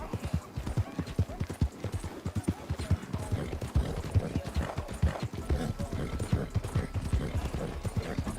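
Horse hoofbeats gallop in a video game, a quick, steady rhythm of muffled thuds that runs throughout at moderate volume with no other sounds above it.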